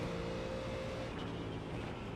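A race car engine in the iRacing sim, an IMSA car lapping Monza, drones steadily at moderate level with a faint tonal whine and no break or pause.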